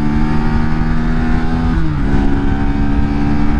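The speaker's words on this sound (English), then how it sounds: "flying up through the gears here." A Lexmoto RSS 125cc motorcycle on the motorway accelerates up through the gears, its loud, close engine drone holding steady before a brief dip and pitch shift at a gear change, then pulling on alone.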